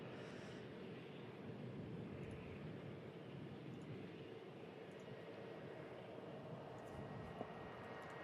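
A Qatar Airways Boeing 787 Dreamliner at Manchester leaves a faint, distant, even jet rumble that stays level throughout, without talk.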